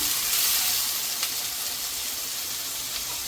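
Ingredients fry in hot oil for a gongura boti curry, giving a dense, even sizzle that stays close and steady throughout, with no speech over it.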